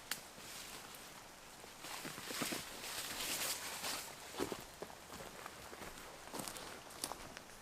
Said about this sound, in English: he heard footsteps approaching his tarp